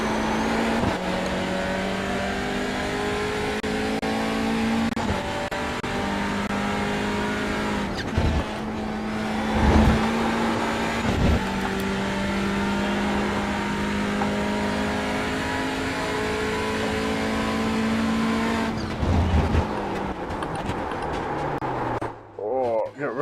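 Race car engine in the iRacing sim racing game, revving loudly and continuously with shifting pitch through corners, a few brief dips as the car slides off track, and a faint voice under it.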